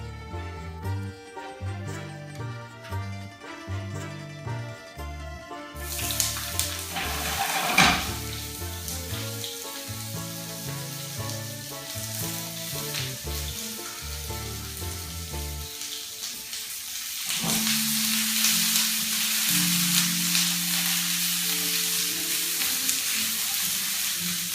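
Thin, evenly cut zucchini slices fry in hot oil in a pan, a steady sizzle starting partway in and swelling louder near the end, with soft clinks and stirring over it.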